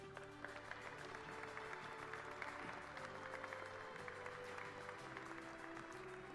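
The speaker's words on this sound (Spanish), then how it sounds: "le pido a los presentes que le brindemos un fuerte aplauso" Faint, steady audience applause at an outdoor public event in Quetzaltenango with the president of Guatemala, continuous distant clapping with no voices over it.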